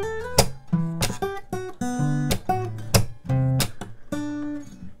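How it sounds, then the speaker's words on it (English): Guitar strings are slapped with the palm, giving sharp, percussive muted hits between short plucked notes, close and clear in a loose, funky rhythm. "So it's just muting it with your palm and just hitting the strings."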